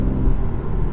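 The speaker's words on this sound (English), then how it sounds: "plant my foot, and it's just effortless" BMW M2 engine pulling hard in sixth gear from about 50 mph, a loud, steady low rumble filling the cabin alone for a moment.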